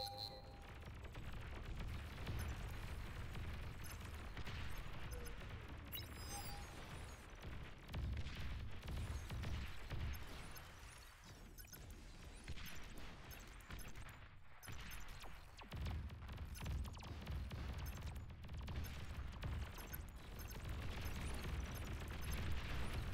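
Booming explosion of a destroyed commander unit in the real-time strategy game Beyond All Reason, set within a continuous roar of artillery fire and blasts, with no talk.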